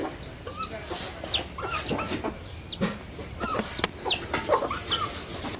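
Chickens raised at a village home cluck and squawk repeatedly at close range, with sharp overlapping calls over a low background murmur.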